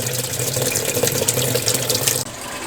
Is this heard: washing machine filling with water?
yes